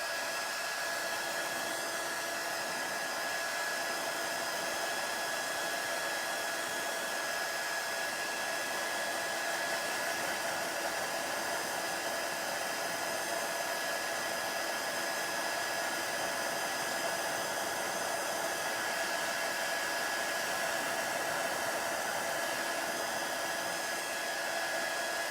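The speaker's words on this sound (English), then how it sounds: "So we'll just dry that and see how it turns out." A hair dryer blows steadily over a handmade card, a constant broadband whoosh with a faint tonal whine that holds unchanged for the whole stretch, close and alone with no talk.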